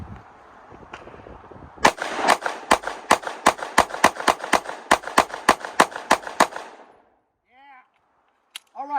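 A Sig 365X-Macro Comp pistol fires about twenty sharp gunshots in a fast, steady string at close range, followed by quiet and a few faint chirps.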